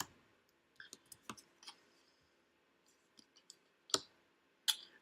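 Tarot cards are handled and drawn from a deck, with scattered soft clicks and papery flicks and two sharper snaps toward the end, close and quiet with no talking.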